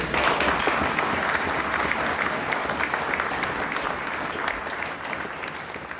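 Sustained applause fills a college hall at a St Catharine's College gathering, a dense, steady wash of clapping from a large audience that holds at an even level throughout.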